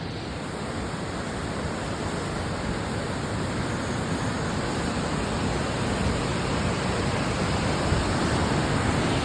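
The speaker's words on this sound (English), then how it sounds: "It looks like it's just a slew of this snow melt that's gushing down the Kern River." Snowmelt water rushes down the Kern River in a steady, loud, broadband roar of gushing current with no breaks throughout.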